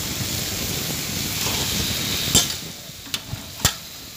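Local chicken meat fries in oil with spices, giving a steady sizzling hiss, while a spoon stirring the pan makes three sharp scraping knocks near the end.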